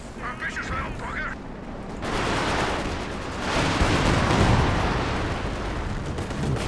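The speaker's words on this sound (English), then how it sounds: "Barrage comes in, almost clears out the machine gun." An artillery barrage lands in a Company of Heroes 2 battle, a dense roar of explosions building after a short stretch of talk, then sustaining loudly to the end.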